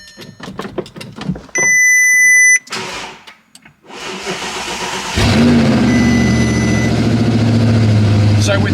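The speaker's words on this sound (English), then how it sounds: "Let's just turn the car on." A rebuilt Audi R8 with a gearbox fault gets ready to start with clicks and a warning chime, then the engine cranks, catches and settles into a loud, steady idle close by, with brief talk beforehand.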